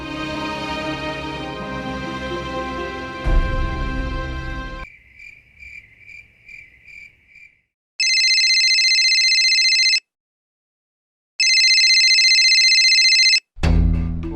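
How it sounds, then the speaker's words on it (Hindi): An electronic phone ringtone rings loudly in two long bursts separated by a pause, after a stretch of music that fades into soft chiming. "फोन उठा बल्लू।"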